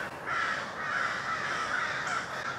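Crows caw loudly and close by outdoors in a rapid series of harsh, repeated calls, summoning the rest of the flock.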